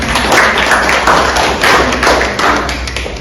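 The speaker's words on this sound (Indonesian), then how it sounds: "kita beri aplaus untuk" A seminar audience applauds a presenting group with steady, loud, close clapping from many hands that fills the whole stretch without talking.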